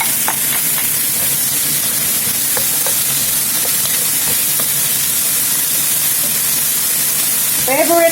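Fried rice with corn and green peas frying in a pan gives a loud, steady, close hiss of sizzling oil, with a few faint scrapes of stirring and a brief clatter near the end.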